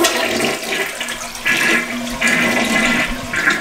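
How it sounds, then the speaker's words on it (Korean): A toilet being flushed after its rubber flapper was replaced, close and loud, with rushing water surging in repeated waves for a few seconds. "물을 한번 이제 내려볼게요"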